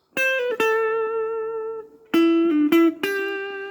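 A guitar picks a lead line as a few clean, sustained single notes with short bends and gaps, played solo and close.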